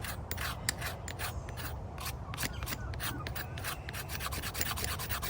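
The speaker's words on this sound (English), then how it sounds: "You can scrape it either way." Fatwood is scraped into a pile in quick, repeated rasping strokes, close and steady with a dry, scratchy texture.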